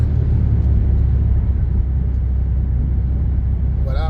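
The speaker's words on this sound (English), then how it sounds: "We have an NA big block, so we're just gradually into the throttle, about 45 miles an hour." A naturally aspirated big-block car engine under gentle throttle at about 45 mph, a steady low rumble of engine and road noise running close and even throughout, with a brief faint chirp near the end.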